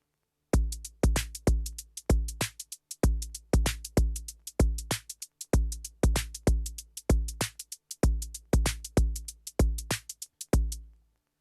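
A London Soul drum pattern programmed on a Korg Volca Drum plays a simple, steady groove of punchy bass drum and snare hits with bright percussive accents. It is crisp, dry and repetitive, with no voice over it.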